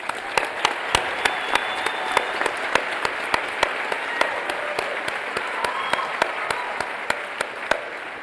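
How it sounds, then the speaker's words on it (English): A graduation audience at an adult education ceremony in Utah applauds its speakers; a steady stream of sharp, fairly evenly spaced claps fills the hall, moderate in volume and thin rather than thunderous. "So another round of applause for our speakers."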